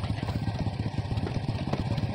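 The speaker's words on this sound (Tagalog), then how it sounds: "Nataranta pagkakarinig ng motor." A motorcycle engine runs nearby at a steady, rhythmic idle, with a low throbbing chug and a light mechanical clatter, and no voices over it.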